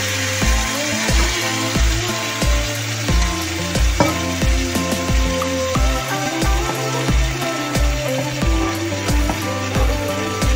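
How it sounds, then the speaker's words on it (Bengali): Ginger paste and ground spices fry in a pan for a traditional Bengali stuffed pointed gourd dish, sounding as a loud continuous sizzle with regular rhythmic scraping and clicking from stirring. "আদা বাটাটা দিয়ে দিচ্ছি, দিয়েই বেটে রেখেছি যেটা চালমগজ সেইটা বাটাটা"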